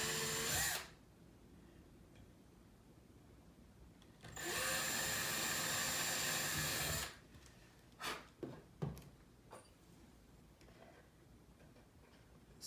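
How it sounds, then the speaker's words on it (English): A power drill boring pilot holes for screws in a DIY tray, two sustained whirring bursts of a few seconds each, close and loud, followed by a few brief knocks. "pre-drill a pilot hole for those screws to go in"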